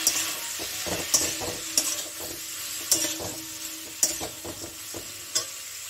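Fried cauliflower gets stirred into a spiced pan, with a spatula scraping and clacking in a regular rhythm over a soft, continuous sizzle close by.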